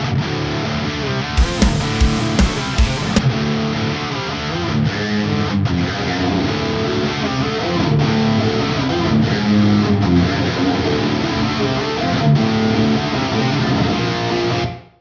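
Guitars played through a reverb plugin in a studio mix, sustained distorted chords with lingering washy tails and a few sharp strummed accents, loud and continuous before fading out at the end.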